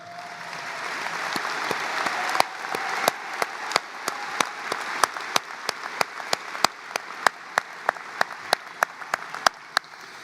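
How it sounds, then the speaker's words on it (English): A graduation audience at Washburn Rural High School applauds honor society students, with steady crowd clapping throughout punctuated by sharp, evenly spaced loud claps standing out near the microphone. "Please recognize these students with their applause as they stand."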